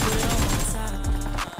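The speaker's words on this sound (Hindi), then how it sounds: "शॉटगन" Shotgun fire in a fast-paced shooter video game: a dense, loud cluster of booming blasts and overlapping gunfire filling the short clip.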